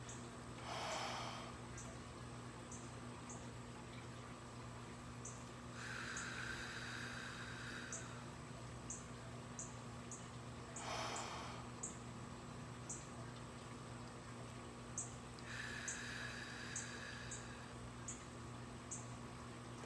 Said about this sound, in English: You breathe in for the count of 4. You hold it for a count of 4. You exhale for a count of 4.